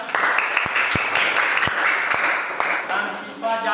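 Classroom students applaud together, a dense steady clapping that runs the full length with a few sharper individual claps standing out, and faint voices mixed in near the end.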